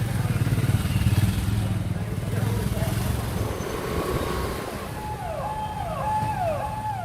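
Bike ambulance motorcycle rides through narrow city lanes in Telangana, its engine rumbling steadily and fairly loud, then a wavering siren wails repeatedly toward the end over street noise.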